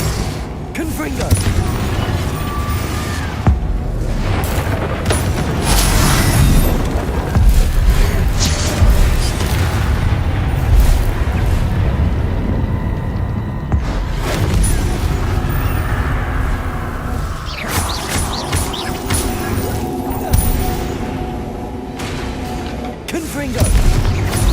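Repeated Confringo blasting-spell explosions in a wizard video game, dense booming bursts under constant game noise and music, with a voice calling out spell names throughout.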